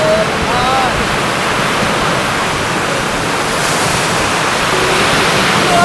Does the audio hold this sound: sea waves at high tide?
yes